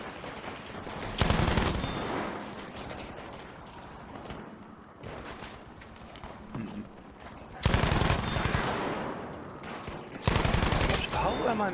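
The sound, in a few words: gunfire in the video game Battlefield V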